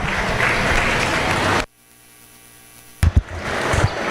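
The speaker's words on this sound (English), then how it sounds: "Let's give them all a round of applause." Audience applause at a meat goat show fills the first second and a half as a dense, steady roar of clapping, then cuts off abruptly into near quiet, followed by a few sharp knocks and bumps.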